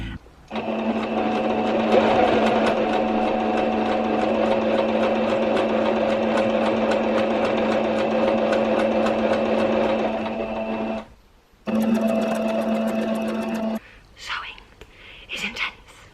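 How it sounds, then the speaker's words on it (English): A sewing machine runs a straight stitch on T-shirt fabric with a steady, close mechanical whir for about eleven seconds, pauses briefly, then runs again for a short stretch before stopping, with faint handling noises afterward. "I'm gonna sew a straight stitch, and then I'm gonna go back over it with a zigzag stitch on the end"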